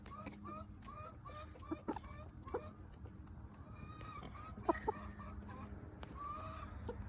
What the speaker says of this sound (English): This is the best thing for a chicken.